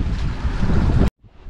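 Strong seaside wind buffets the microphone at a coastal viewpoint above a calm sea, a loud continuous roar that cuts off abruptly, leaving only faint background rumble.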